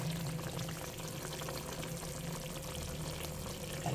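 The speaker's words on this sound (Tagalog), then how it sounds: "Lalagyan ko siya ng konting tubig guys." A little water poured into a pot of fish paksiw cooking in vinegar, a steady close gurgling splash over the simmer of the pan, with no talking.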